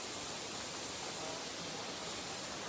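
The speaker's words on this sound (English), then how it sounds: "Nothing like the calming beauty of a waterfall, the natural spring waters" A backyard waterfall fed by natural spring water in Dallas, Georgia, gives a steady, even rushing roar of falling water that fills the whole clip without pause and carries no voices.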